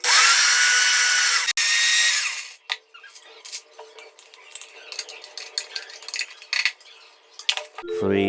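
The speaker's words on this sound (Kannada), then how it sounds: "ಸೊ ಮಿಕ್ಸಿ ಹಾಕ್ಕೊಂಡು" An electric mixer grinder blends fried masala for dum biryani. The motor roars loudly for about two seconds and then cuts off, followed by light clinks and rustling.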